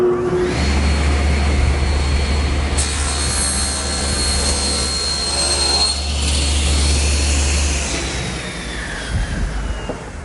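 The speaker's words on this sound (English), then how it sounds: "now I've actually ripped this piece about a 32nd of an inch too wide" A table saw rips a wooden board in a woodworking shop, a loud sustained motor whine with a low hum and high cutting tone that holds steady for several seconds before winding down.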